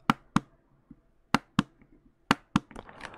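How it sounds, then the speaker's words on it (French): A rotary knob on a mechanical keyboard, loosely seated, is turned in sharp, distinct clicks that come in pairs and singles, close up and otherwise quiet, with faint rustling at the end. "Le bruit du knob"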